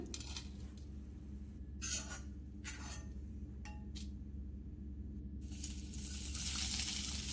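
Two medium onions, cut up and frying in oil for a bitter gourd onion fry, give a soft sizzle over a steady low kitchen hum. A few brief utensil clinks come partway through, and the sizzle swells louder near the end, with no talking.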